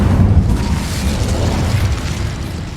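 A fire spell cast in the Hogwarts Legacy video game erupts as a loud, sustained whooshing burst of flame with a booming low rumble that holds steady for about three seconds, with no voices over it.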